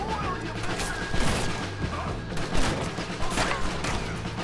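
Shotgun blasts in Red Dead Redemption 2 during a gunfight at a mine, several heavy booming shots spaced a second or so apart amid crashing impacts and game noise, with faint talk underneath.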